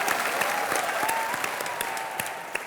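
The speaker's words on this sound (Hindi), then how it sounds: "एक बार जोरदार तालियां हो जाएं" A studio audience on a Colors TV entertainment show claps loudly and steadily, a dense, even wash of applause with sharp individual claps standing out throughout.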